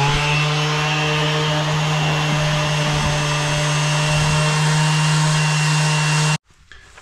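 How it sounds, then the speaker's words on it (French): An electric sander runs steadily on an oak board fixed over a concrete lintel, a loud continuous motor whine with a strong low hum and scraping grit, droning for about six seconds before cutting off abruptly. "je vais mettre mon petit coup de ponçage"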